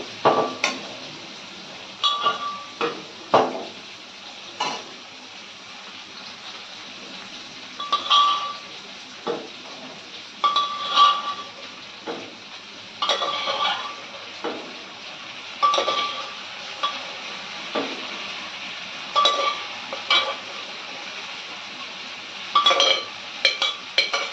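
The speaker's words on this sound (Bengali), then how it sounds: "চানাগুলো আমার ভালো করে হিলাতে হবে।" A utensil stirs chickpeas (chana) in a metal pan, giving repeated bright clinks and scrapes in irregular bursts with short pauses between, close and clear.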